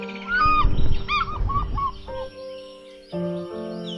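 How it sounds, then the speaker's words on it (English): An African fish eagle calls at an African safari waterhole, a loud, clear run of yelping notes close by, with honking bird sounds and other calls among them. "I could hear this call of an African fish eagle flying in."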